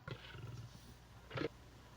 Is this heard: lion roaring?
yes